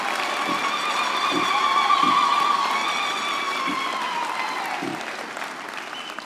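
Sustained applause from an audience for graduates at a university end-of-year graduation ceremony, a steady wash of clapping that swells and then slowly fades, with a low hum underneath.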